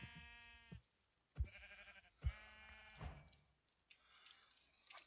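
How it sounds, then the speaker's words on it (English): Sheep bleat in a blocky Minecraft-style game world, with three or four short separate bleats in close succession, fairly near. A faint ticking runs underneath and no one speaks. "Sheep."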